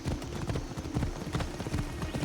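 A galloping horse in Assassin's Creed Odyssey pounds out fast, even hoofbeats, near and prominent, with a steady bed of game ambience and score beneath the running rhythm.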